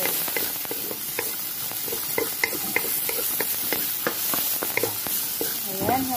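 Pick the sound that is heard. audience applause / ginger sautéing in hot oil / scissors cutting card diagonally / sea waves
ginger sautéing in hot oil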